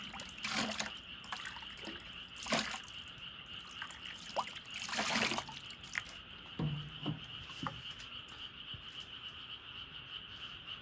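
Water rinsing a container used for a gibberellin solution for Shine Muscat grapes: quiet, intermittent splashes and trickles in short bursts over a faint steady background.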